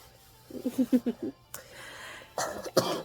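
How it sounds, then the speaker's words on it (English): A quick series of small, close coughs in a rapid rhythm, followed by a pause and then a couple of harsher, breathier coughs. "you coughed in my face"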